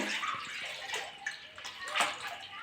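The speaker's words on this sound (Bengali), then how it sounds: "কড়াতে একটু জল দিয়ে দেবো" A little water poured into a kadai on a lit gas stove, a brief close splashing pour with gurgles and a couple of louder surges, fairly quiet and without talk.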